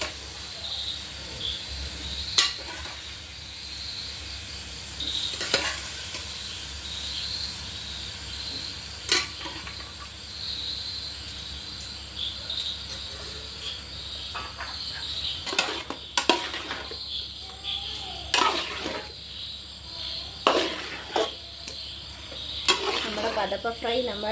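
Pathappa fish sizzling and being stirred in masala in a frying pan, a steady soft hiss with scattered louder scrapes and clinks of the spoon, no voices.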